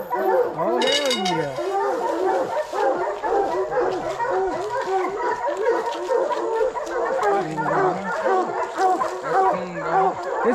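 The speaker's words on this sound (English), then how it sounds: "So these are your deer dogs?" Hunting dogs, deer dogs and coon dogs, bark, yip and whine in kennels, a busy overlapping chorus close by with howling notes, while people talk among them.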